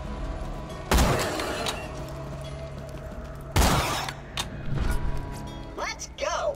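Sniper rifle shots in the shooter game Borderlands ring out twice, a few seconds apart, each sharp and loud with a ringing tail, followed by smaller clanks and a brief warbling game effect.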